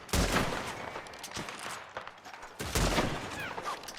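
Gunfire in Red Dead Redemption 2 comes as a couple of sharp shot bursts with short echoing tails, moderately loud against a quiet background.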